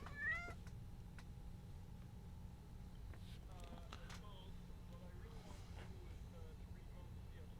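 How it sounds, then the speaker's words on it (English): A cat meows briefly near the start, heard faintly behind a steady low hum, with people talking around it. "I'm fighting off a cat."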